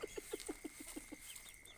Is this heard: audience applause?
no